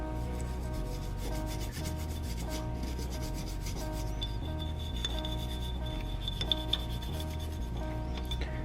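A brush scrubs the slide of a Smith & Wesson M&P pistol coated with CLP. It makes a quick, even, continuous scratching that runs steadily throughout at low volume, close up and without speech.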